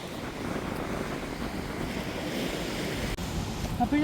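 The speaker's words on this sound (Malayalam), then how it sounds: "കാറ്റും കടലും. ഇപ്പം ഇങ്ങോട്ട് കാറ്റടിക്കുന്നു." Wind gusts and sea waves wash against a Lakshadweep island shore in the morning, a steady low rushing roar with wind buffeting the microphone, fairly close and continuous.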